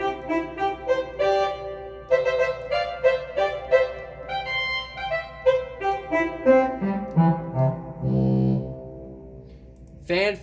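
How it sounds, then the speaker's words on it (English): A Hauptwerk virtual organ plays its revoiced, high-pressure tuba mirabilis coupled to the 8-foot tuba, giving a bright, brassy series of short chords and notes that descend into a sustained low chord before a sharp final burst. "I like to couple the tuba mirabilis with the tuba 8 foot"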